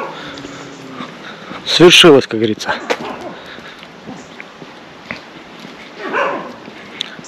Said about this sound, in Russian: Тут весело, собачки лают.